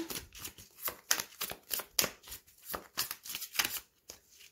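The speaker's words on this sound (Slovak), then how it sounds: "Zoberieme ešte 3 karty." Tarot cards shuffled and dealt at close range, a steady run of crisp riffling bursts and soft slaps as cards are drawn, with no talking.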